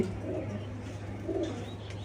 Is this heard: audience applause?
no